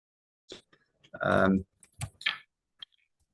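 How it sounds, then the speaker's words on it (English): Computer keyboard typing in a few quick bursts of clicks, with a longer dense run of keystrokes in the middle, close and fairly quiet, no talking over it. "Using Jim's keyboard here"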